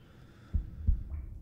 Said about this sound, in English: Is the heart beating?